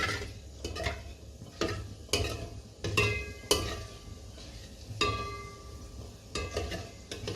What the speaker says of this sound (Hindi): अब हम इसमें अपने ये गरम मसाले डालेंगे। इसको 1 मिनट के लिए सौते करेंगे थोड़ा सा।